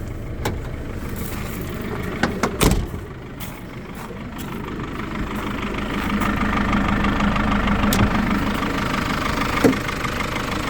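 A 2.8-litre turbodiesel engine in a 2005 Volkswagen LT35 passenger van idles with a steady low rumble and faint knocking, preceded by a couple of sharp clunks, growing slightly louder later.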